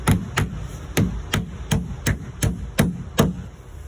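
A hammer nails down floor sheeting to tack it in place, ten sharp evenly spaced blows close by, each ringing briefly before the next.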